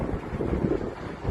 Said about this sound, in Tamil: ஆனாலுமே வந்து காற்று பயங்கரமான காற்று. ஏன்னா ரிவருங்கிறதுனால.